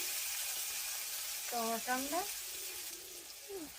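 Crushed garlic and ginger sizzle steadily in hot oil in a pan for a curry, a continuous bright frying hiss, with brief other tones over it partway through.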